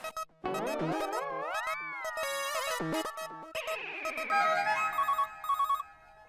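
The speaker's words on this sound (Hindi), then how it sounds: "मैं क्या है दरअसल स्कूल में ही फोन लगा रहा हूँ" An outgoing phone call to a school rings through a handset as a bright electronic melody of sliding, warbling tones, followed by rapid repeated beeping notes.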